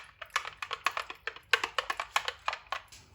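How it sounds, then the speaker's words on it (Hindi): A cup of yogurt is whisked in a bowl, giving a brisk run of light clicking taps, roughly six a second, close and fairly quiet with no talking. "इसको अच्छी तरह फेंट लेंगे।"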